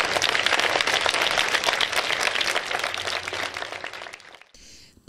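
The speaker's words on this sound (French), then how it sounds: "Un applaudissement." Applause at the close of a back-to-school address: dense, steady clapping from a crowd, loud and continuous for about four seconds before cutting off abruptly into near silence.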